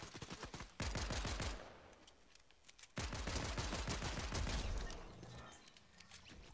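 Rapid bursts of gunfire from the video game Fortnite, in a Star Wars setting, come in two dense volleys of fast repeated shots, loud and close, with a quieter rattle between and after them.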